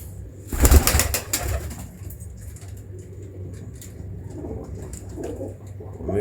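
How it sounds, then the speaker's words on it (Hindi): A pigeon coos softly and repeatedly at close range, a low throaty murmur following a brief burst of rustling or flapping near the start. "ये जो कबूतर बोल रहा है"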